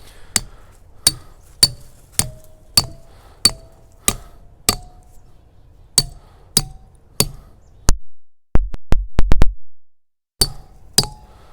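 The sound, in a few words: hammer tapping wedges and feathers to split rock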